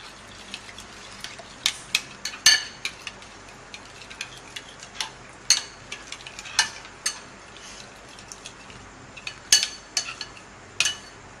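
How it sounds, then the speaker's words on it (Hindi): A spoon clinks and taps against a bowl while chicken drumstick marinade with lemon juice is mixed, sharp irregular ticks over a soft wet stirring, close and without talk. "अब अच्छे से इसको हम मिक्स कर लेंगे।"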